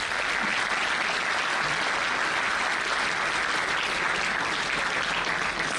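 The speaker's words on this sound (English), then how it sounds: "Round of applause, please." Sustained round of applause from a large audience at an engineering graduation ceremony, dense, even clapping that holds steady and loud for several seconds without a break.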